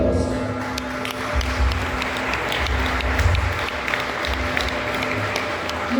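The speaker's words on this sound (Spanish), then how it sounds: "Recibamos con un fuerte aplauso" Audience applause at a community elders' council event in Caxhuacan, Puebla, a steady wash of clapping from a seated crowd that fills the whole stretch, with faint background voices under it.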